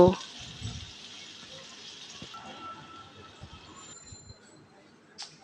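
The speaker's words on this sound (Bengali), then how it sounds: "আধা কাপ পেঁয়াজ কুচি পেঁয়াজটাকে এবার তেলের সাথে ভেজে নেব" Chopped onion frying in oil left over from frying fish, a soft continuous sizzle that fades slightly after a louder start, with faint background noise and no voices.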